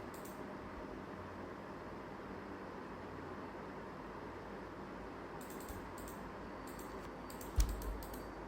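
A computer keyboard is typed on faintly against steady low hiss: quiet stretches give way to short clusters of soft key clicks in the second half, ending with one sharper tap.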